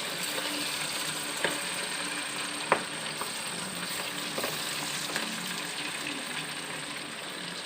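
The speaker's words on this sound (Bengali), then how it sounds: "কড়াইয়ের তেল ভালোভাবে গরম হয়ে গিয়েছে এবার আমি ভালোভাবে ভেজে নিচ্ছি" Steady crackling sizzle of chicken frying in hot oil in a wok, with a few sharp pops and faint stirring clicks, close by and continuous.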